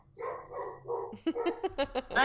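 A dog barks in a quick series of sharp, close barks that build toward the end, with a voice speaking briefly beforehand.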